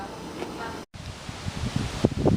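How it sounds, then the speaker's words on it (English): Wind blows across the microphone outdoors in northwest Arkansas, a steady rushing buffet with brief gusty bumps and a short dropout partway through. "It is a little windy out here today"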